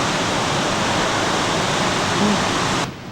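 Loud, steady roar of a waterfall running high over the falls, a continuous broadband rush close by that drops off abruptly near the end.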